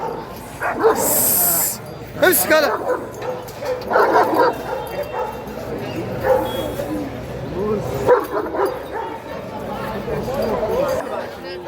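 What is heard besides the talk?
fierce dog barking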